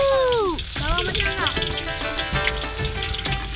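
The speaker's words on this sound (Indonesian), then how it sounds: "Tumis bawang merah, daun bawang, dan tomat" Shallots, spring onion and tomato sizzle in a hot pan at an outdoor cooking fire, a steady close frying hiss running beneath melodic background music or voices.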